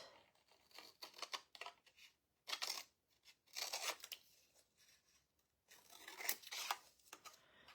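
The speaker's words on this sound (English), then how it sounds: "And then we'll sand off the rest." Sandpaper rubbing over wooden embellishments on a handmade Christmas star, in soft raspy strokes that come in several separate bursts with quiet pauses between them.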